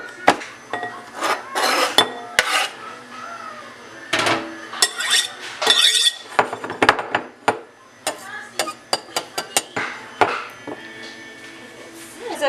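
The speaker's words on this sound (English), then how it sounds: "anybody ever tried to chop rosemary?" A knife chops rosemary on a cutting board in sharp, irregular bursts of close, loud taps, with brief pauses and faint clinks between the runs.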